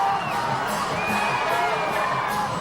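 A Waianae crowd cheers at a high school JV football championship in Honolulu, a steady roar of shouting and whoops with shrill whistles and high children's voices, loud and continuous throughout.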